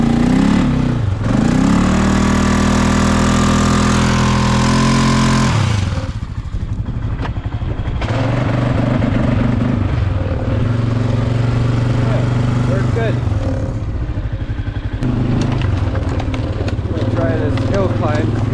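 A 1998 Polaris Sportsman 4x4 ATV engine runs loud and close on a sand pile, revving hard then dropping to a rough idle before climbing again, with a voice talking over it.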